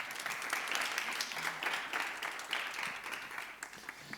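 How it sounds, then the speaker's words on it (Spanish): Faint applause rises from a press conference audience, a soft, steady patter of many hands that slightly tapers near the end. "Un aplauso para ellos, ¿no?"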